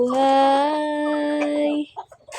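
A chicken gives a long, loud, tonal call that holds steady for nearly two seconds, then a few short faint clucks follow.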